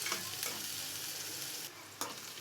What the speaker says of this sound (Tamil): வெங்காயத்தை நல்லா வதக்கிடலாம்.